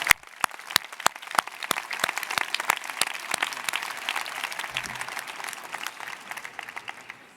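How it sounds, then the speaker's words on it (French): An audience at the formal opening ceremony of the Bordeaux Bar applauds, starting with a few sharp, distinct claps that quickly swell into steady, moderately close clapping before gradually thinning. "on peut applaudir cette mise à disposition et l'UBB."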